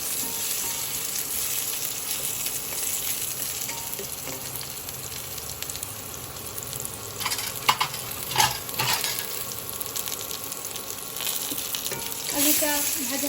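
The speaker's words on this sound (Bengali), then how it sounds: "আলুটা ভাজা হয়ে গেছে" Potatoes sizzle steadily in hot oil in a pan while being stirred, with scraping clatters of the spatula standing out near the mic over the constant fry.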